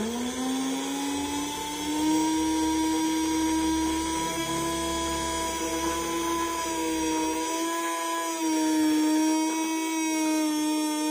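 Small Tamiya dynamo motor spinning on 3 volts from two batteries during an RPM test, a steady high-pitched electric whine with a strong tone, close and continuous, its pitch wavering slightly.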